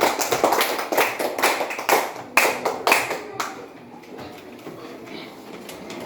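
Classroom applause for a student, a few seconds of brisk clapping from a small group up close, fading out into quiet room sound.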